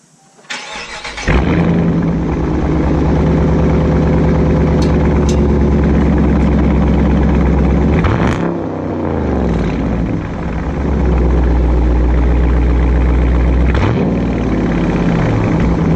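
A 2017 Dodge Charger Daytona with its mid muffler deleted starts up, then idles with a deep, loud rumble recorded near the ground, broken by two sharp revs that rise and fall around the middle and near the end.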